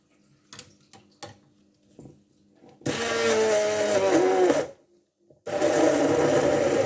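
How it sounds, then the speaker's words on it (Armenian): After a few light taps and knocks, a blender roars loudly while grinding ginger, black pepper and water, runs for about two seconds, stops briefly, then starts again at full whine. "Ու բլենդերով կմանրեմ"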